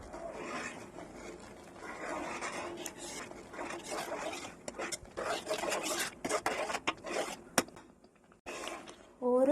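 Jackfruit halwa being stirred continuously in a pan over a high flame, a steady rasping scrape of spoon against the pan bottom with thick, sticky rubbing, fairly close and moderately loud, ending with brief clatter.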